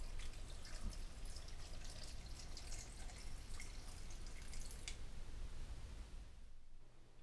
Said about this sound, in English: Then I'm adding filtered water.